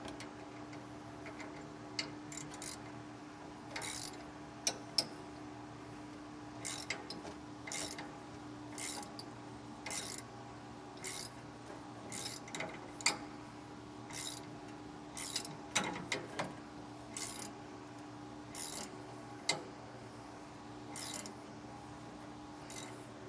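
Faint, steady ratcheting clicks come from a tensioner being cranked on a RoadActive leaf spring enhancement kit, in irregular bursts of ticks over a low background hum, with no voices.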